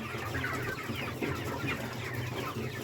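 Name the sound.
broiler chickens clucking in a brooder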